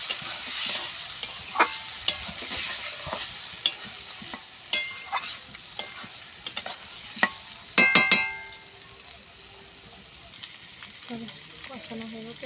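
Boiled potatoes stirred and sautéed thick in a pan for a Bengali egg curry, with a steady low sizzle broken by repeated scraping and clinking stir strokes, a few louder clatters near the middle, and no talking.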